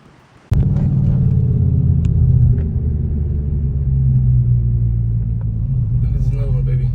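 A car drives along a road heading north, its steady low engine rumble and road noise starting abruptly and holding loud and constant throughout.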